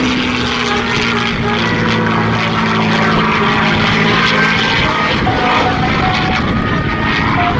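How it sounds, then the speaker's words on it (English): Propeller aircraft, a P-51 Mustang fitted with a Rolls-Royce Merlin engine, flying over an airshow, its loud steady droning engine roar running continuously with no break. "the aircraft was transformed with the addition of the Rolls-Royce Merlin engines"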